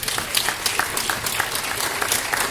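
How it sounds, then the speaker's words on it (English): Audience applause for mayoral candidates at a forum in Fourth Baptist Church, Richmond: a sustained, even wash of clapping from a standing crowd, moderately loud with no talk over it. "can we give our mayoral candidates another round of applause?"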